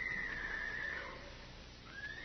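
A horse in a 1953 Gunsmoke radio drama gives a high, wavering whinny that fades over about a second, followed by a shorter rising neigh, both heard faintly and without talk.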